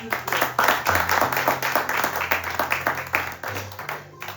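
A church congregation applauding at a Pentecost service, dense rhythmic clapping from many hands, fairly loud and steady, with faint voices underneath.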